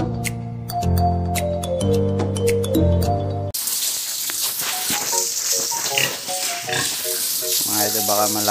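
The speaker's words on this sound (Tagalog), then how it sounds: "Yun na yung baboy emal natin," A pregnant pig close to giving birth grunts on a Philippine pig farm, with loud tonal calls at first, then a busier stretch of snorts and squeals over background noise.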